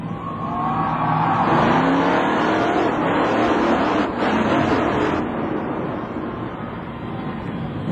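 A Pontiac race car roars steadily at a short track, a loud continuous engine drone with some rising revs, sustained throughout and without talk.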